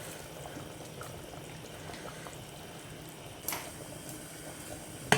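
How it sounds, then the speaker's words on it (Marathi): Boiled water poured into chicken curry in a pressure cooker, a faint, continuous liquid pour and bubbling with a small splash partway through and a sharp knock at the end. "परतून झाल्यावर ह्यात आपण आता उकळलेलं पाणी टाकायचे"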